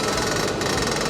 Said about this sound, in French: le petit appareil, il sert à graver le numéro de série du tracteur